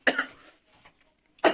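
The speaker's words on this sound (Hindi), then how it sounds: "खांसी हो रही है" A person coughs twice, a sharp close cough at the start and another at the end, separated by near silence with a faint throat sound in between.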